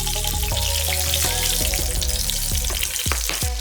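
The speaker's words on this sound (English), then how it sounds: "I'm gonna just drop the potatoes in and hear that sizzle." Potatoes dropped into a very hot pan while cooking vegetables for roasted chicken thighs give a steady, close frying sizzle, broken by a few clatters and knocks of the pan.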